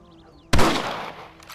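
A rifle shot from the Red Dead Redemption video game, preceded by near quiet, cracks out as a single loud, sharp blast, then trails off in a rolling echo over about a second.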